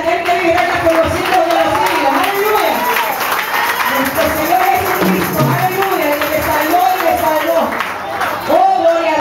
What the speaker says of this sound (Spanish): Un aplauso, aleluya